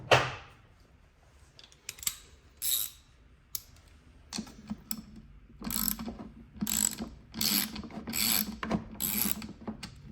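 Ratchet wrench with a 7 mm socket working fasteners on a Lasko CT30711 tower heater during teardown: close, repeated bursts of fine metallic clicking from the pawl, separated by short pauses, with no talk.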